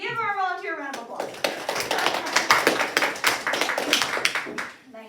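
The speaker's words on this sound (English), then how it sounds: "Give our volunteer a round of applause" Classroom of fourth graders clapping for a volunteer after a money-counting lesson: a burst of fast, scattered handclaps fills the room for about four seconds, with a voice just before and faint talk at the end.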